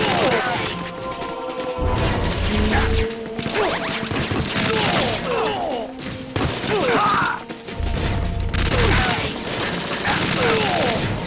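Sustained AK rifle fire in Metal Gear Solid 2, dense loud volleys running almost the whole time with impacts and thumps mixed in.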